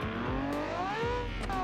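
A rear-wheel-drive rally car in a racing video game revs hard, its engine whining up through the gears with quick shifts that drop the pitch and then climb again. It plays steady and loud with no voices.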